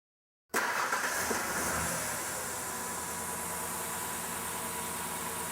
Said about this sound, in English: Let's go ahead and start the engine up.